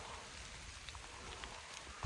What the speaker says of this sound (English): Getting rained on while walking with a rucksack, which is good times.